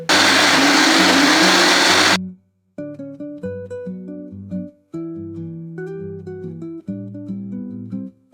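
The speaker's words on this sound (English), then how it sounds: "And now we're just gonna blend everything together." A blender runs at full power for about two seconds, churning a tropical rum slushie of ice and Bacardi rum with a loud, dense whirring roar that stops abruptly, followed by soft background music.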